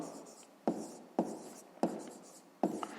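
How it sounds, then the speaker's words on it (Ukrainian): A fifth-grade math problem written out by hand, heard as four sharp scratchy pen or marker strokes at a regular, unhurried pace, close and fairly clear, with a soft rustle between them. "Давайте так і запишемо"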